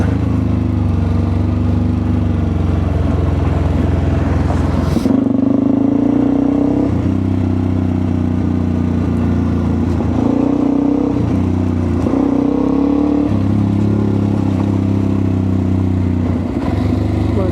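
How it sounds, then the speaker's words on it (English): A small motorized cart drives past on a national park trail, a steady close engine drone with clattering and several shifts in pitch as it nears and goes by. "Here comes the cart"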